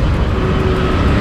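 Steady road traffic rumbles through a residential street in Khadakpada, Kalyan, a continuous near wash of passing vehicle engines with no voices.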